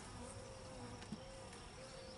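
A steady, dense insect buzz fills the air, a constant droning hum from many honeybees close by around an open hive, with faint rustling underneath.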